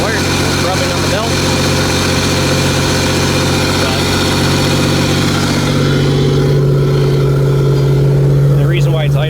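A 1996 Buick Regal demolition derby car idles high after a crash, with a wire rubbing on its belt. The steady, loud engine drone runs throughout and settles into a deeper hum toward the end.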